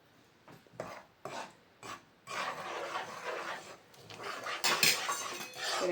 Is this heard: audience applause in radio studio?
no